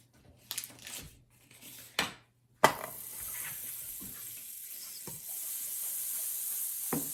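Butter going into a pan for 1800s-style slapjacks: a few clanks and scrapes of the pan, then a sharp burst of sizzling that settles into a steady hiss.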